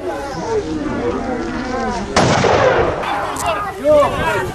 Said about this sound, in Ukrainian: Він стає в стійку та робить постріли.